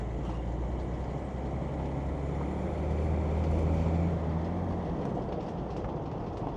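Steady, loud road and drivetrain rumble inside a Land Rover Defender 110 fitted with a tuned BMW M57 diesel engine and Darkside turbo, driving with a noisy roof; a dense, continuous drone swells slightly midway.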